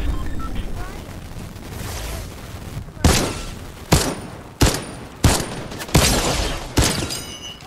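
Gunfire in the video game Fortnite: after a stretch of low rumble, a series of about six loud, sharp shots cracks out at roughly one-second intervals, with faint background game noise between them.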